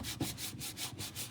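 Tape being rubbed over a painted postcard surface gives a soft, steady scuffing with faint repeated strokes, close and quiet, with no voices.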